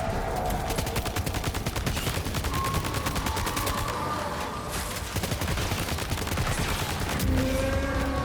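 Sustained rapid gunfire in the video game Death Stranding 2, a dense, loud fusillade of shots firing continuously for several seconds with brief tonal game effects layered in.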